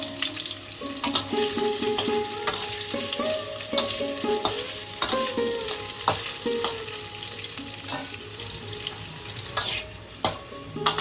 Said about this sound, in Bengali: ওই তেলেতেই ডুমো করে কেটে রাখা আলুটাকে আমরা ভেজে।